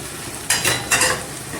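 Crumbled idli being stirred into tomato masala in a pan for idli upma, heard as two scraping strokes over a steady close sizzle, with no talk.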